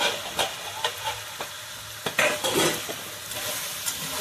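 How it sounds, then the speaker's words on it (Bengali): Ridge gourd pieces frying in a pan and stirred with a utensil, giving a steady sizzle broken by a few sharp scraping clinks, close and moderately loud. "নাড়াচাড়া করে দেবো।"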